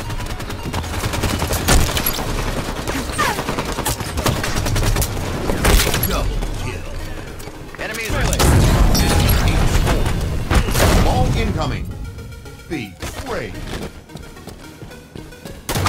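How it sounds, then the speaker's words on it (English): Heavy booming blasts and rapid firing from a Halo 5 match as the incineration cannon is in play, loud and continuous with dense explosions, some voices heard over the action before it thins out near the end. "Incineration cannon's on the field."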